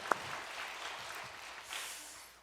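A church congregation breaks into applause during an Easter service, a faint, steady wash of clapping that holds for a couple of seconds and fades slightly at the end.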